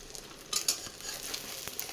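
Bread for an egg toast lands in a hot frying pan with onion, a sharp burst of sizzling followed by a steady crackle and a couple of light pan clicks, close and without talk.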